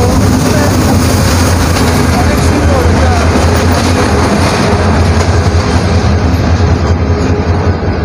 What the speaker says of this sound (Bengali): তো আমার ট্রেন চলে আসছে, একটু করে ঢাকা চলে যাব একটা কাজের উদ্দেশ্যে।